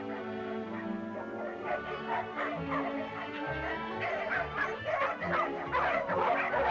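Several dogs yip, whimper and bark in quick, overlapping bursts close by against a busy background of film music, the last of a lot of dogs offered for sale.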